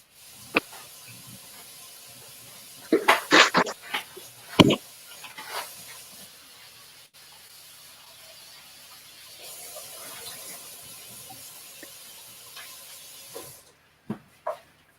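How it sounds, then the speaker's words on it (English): Tap water runs steadily while green peppers are rinsed at a kitchen sink, a soft continuous hiss broken by louder splashes and spatters as the vegetables pass under the stream, ending with a couple of sharp knocks. "I'm gonna go ahead and rinse off my green peppers"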